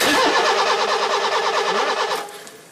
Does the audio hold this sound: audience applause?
no